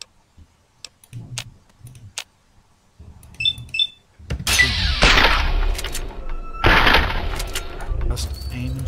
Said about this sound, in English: Just aim and shoot.